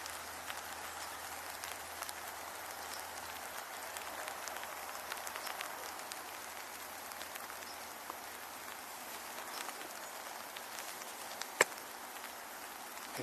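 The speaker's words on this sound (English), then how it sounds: "Okay, the rain's picking up now." Rain falls outdoors near a wetland, a steady soft hiss of drops on surfaces with scattered patters and one sharp close tap, even and unbroken throughout.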